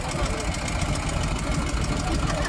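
A 1978 MZ TS 250 two-stroke motorcycle at a vintage motorcycle rally pulls away close by, its engine a steady, rough buzzing drone with rapid pulsing throughout.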